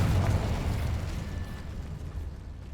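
A Confringo spell explosion in the video game Hogwarts Legacy, a single low rumbling blast that decays over a couple of seconds, with no talk.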